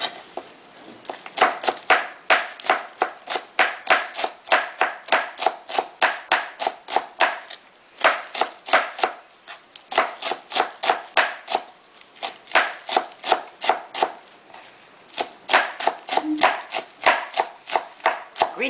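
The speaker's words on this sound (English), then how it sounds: "Take your green onion, line them up. Okay, cut the heads off." A knife chopping green onions on a cutting board, rapid crisp evenly spaced taps in bursts with short pauses between runs, close and clear with no talk.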